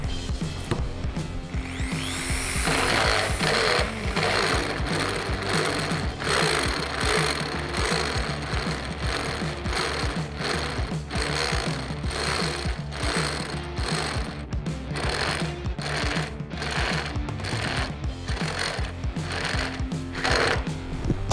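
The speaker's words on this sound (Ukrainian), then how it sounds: "ми просверлили до 18 мм" A Dnipro-M power drill bores a hole up to 18 mm across during a crash test, a loud steady grinding drone with rhythmic pulsing bursts that runs the whole length without any talk.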